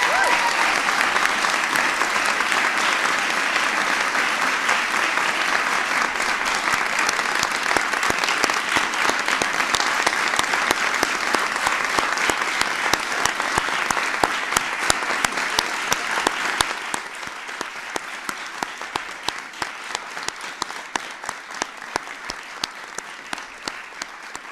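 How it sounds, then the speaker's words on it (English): A large audience applauds loudly and steadily for about 17 seconds during a presidential speech about a health care law, then the clapping thins and fades somewhat but continues to the end. "Give her a big round of applause."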